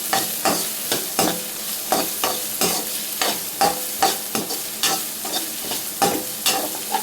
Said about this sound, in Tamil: குடமிளகா போட்டுக்கலாம். ஸோ இதையும் நல்லா வதக்கிக்கலாம்.